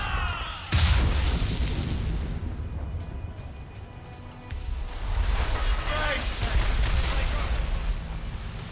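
Ship cannons blasting in the naval game Assassin's Creed Rogue: heavy booming volleys with a rumbling low end, loud and close, continuing through the clip amid battle noise and shouted voices.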